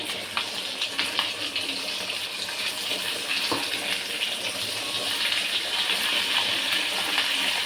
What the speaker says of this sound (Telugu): ఇవైతే వేగుతూ ఉన్నాయి